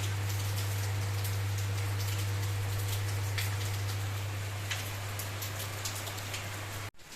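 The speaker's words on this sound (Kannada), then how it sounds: "ಮಳೆ ಜೋರಾಗಿ ಬರ್ತಾ ಬರ್ತಾಯಿದೆ ನೀರು ಹರಿತಾ ಐತೆ ಮಳೆ ಬರ್ತಾ ಐತೆ" Heavy rain pours steadily, a dense continuous hiss of drops with a low constant hum underneath, cutting off abruptly at the end.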